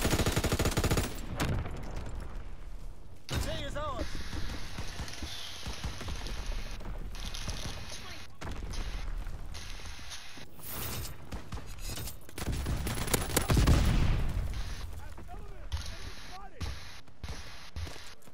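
Rapid bursts of gunfire ring out in the Call of Duty: WWII video game, with loud shots and explosions in a busy battle mix and a player's voice talking over the action at times.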